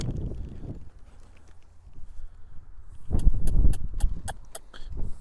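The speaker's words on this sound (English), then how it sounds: "I can slap this stirrup all over him, make noise, it flaps around with me being right here." Soft rustling, then a flurry of sharp slaps and leathery flapping as a saddle stirrup is slapped against a horse, several quick smacks close by.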